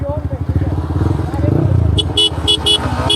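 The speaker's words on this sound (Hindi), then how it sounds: "हॉर्न दे रहे हैं," A motorcycle engine roars up close while someone talks during a drag race between a Yamaha R15M, Pulsar NS200 and R15 V3, then several short sharp horn toots sound in quick succession near the end.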